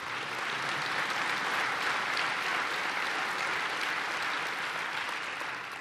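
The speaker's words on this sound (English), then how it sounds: "that's worth applause." A large audience claps steadily through a political speech in Estonia, a dense, even wash of applause holding at moderate loudness from start to finish with no voices over it.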